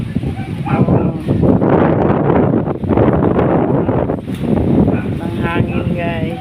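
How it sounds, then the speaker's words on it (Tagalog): Strong typhoon winds gust over a flooded fishing village, a loud buffeting roar against the microphone that rises and falls in surges while a person talks. "Ang hangin, guys."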